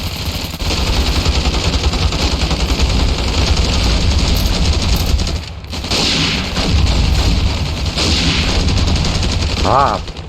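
Machine-gun fire pours out in Ravenfield, in a NYPD-style hospital assault. Dense, loud volleys run almost nonstop, with one brief lull midway and a thin whistling tone near the end.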